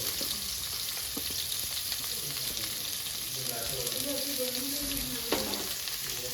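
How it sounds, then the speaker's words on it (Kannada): Onions fry in a pan with a steady, dense sizzle and occasional stirring scrapes, moderately loud and continuous, with faint background sounds. "ಫಸ್ಟು ಈರುಳ್ಳಿ ಎಲ್ಲ ಫ್ರೈ ಮಾಡ್ಕೊಬೇಕು."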